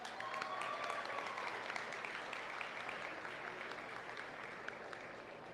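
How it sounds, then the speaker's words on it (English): Audience applause at a county fair livestock arena, a steady, even wash of many hands clapping that holds for several seconds, faint and somewhat distant, with no talk over it. "so give them a round of applause."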